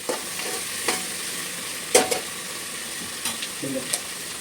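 Village-style tempered khichdi simmers and sizzles in a pan, a steady soft frying hiss broken by a few sharp clinks and stirring scrapes, with no talking.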